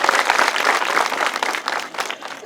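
Applause from a gathered crowd at a welcome during a youth tree-planting environmental event, dense and continuous clapping that fades slightly toward the end.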